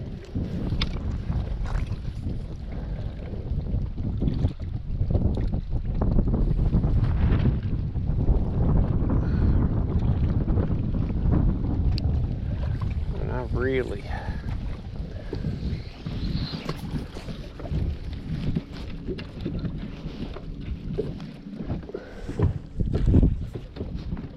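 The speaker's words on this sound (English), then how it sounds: "Really wish this wind could take a break." Strong wind buffets the microphone on Lake Cumberland during a bass fishing tournament, a constant low roar with gusts from a boat on the water, and only brief faint noises over it.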